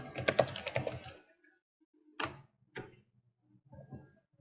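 A computer keyboard is tapped up close: a rapid cluster of key clicks, then a few sparse, separate keystrokes spaced out over the following seconds in an otherwise quiet room.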